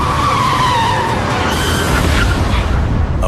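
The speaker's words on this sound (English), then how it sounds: "just yards from a collision, the automatic braking system kicks in" A car's automatic braking system brings it to a sudden stop, tires skidding and squealing loudly against the road in one continuous, close, harsh burst.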